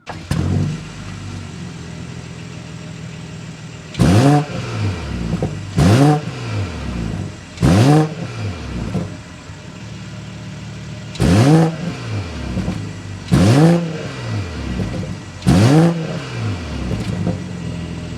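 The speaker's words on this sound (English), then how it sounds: "Let's go inside, start up, so you can hear that exhaust note." A 2023 BMW X5 xDrive40i engine with twin-scroll turbo idles low and steady, then revs sharply several times, each burst of throttle rising and falling back in a throaty exhaust roar.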